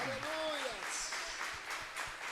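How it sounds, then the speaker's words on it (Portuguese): A church congregation applauds during worship, a soft, distant patter of clapping with a singing voice drifting over the opening. "Aplaude o Senhor, igreja."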